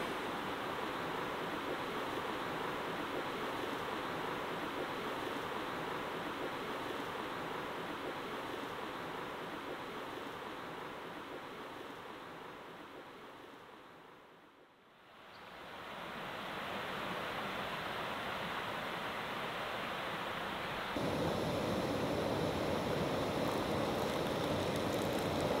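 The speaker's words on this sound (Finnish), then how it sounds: "sitten tähän purokohinaa kuuntelemaan ja hiljalleen nukkumaan" A stream rushes steadily through a rocky gorge in Hiidenportti National Park, a continuous broad hiss of flowing water heard close and alone, with a brief dip in the middle.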